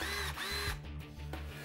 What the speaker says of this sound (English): NASA didn't invent the cordless power drill, but they did help to make it a whole lot better.